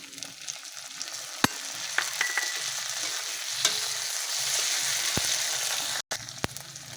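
Tomatoes fry with ginger-garlic paste and spices in a pan for egg and pea ghugni, making a steady close sizzle with occasional sharp clicks and scrapes of stirring and a brief pause near the end.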